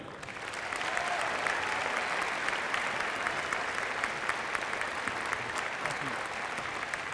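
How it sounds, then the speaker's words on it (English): An outdoor crowd at a Special Olympics opening ceremony applauds the vice mayor with steady, dense clapping that swells after the first second and holds at a moderate, somewhat distant level. "Let's give a nice round of applause to our Vice Mayor"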